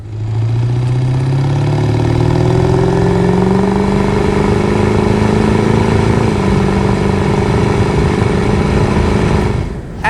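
A 2002 Ford F-250 Super Duty with a 7.3 Powerstroke diesel and slightly louder aftermarket exhaust, a loud, close, steady engine drone with pitch rising gradually as it accelerates, then settling.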